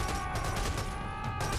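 Sniper rifle gunfire in the video game Serious Sam 4, a dense, loud wall of shooting and explosive noise that fills the whole moment without a break.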